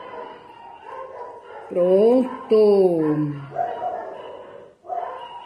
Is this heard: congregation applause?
no